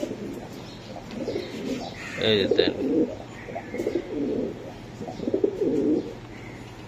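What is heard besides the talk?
pigeons cooing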